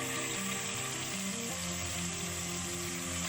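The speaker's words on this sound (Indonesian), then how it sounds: "kita tumis bumbu halusnya" Ground spice paste sizzles steadily in hot oil in a pan, a constant close bright hiss with no talking.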